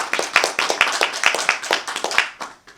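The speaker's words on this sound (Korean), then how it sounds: "장시간 좋은 음악 들려주신 우리 이정학 사님한테 다시 한 번만 박수 부탁드리겠습니다" A small group at a JBL Summit speaker launch listening event claps, a few hands beating in quick uneven bursts that thin out and fade toward the end.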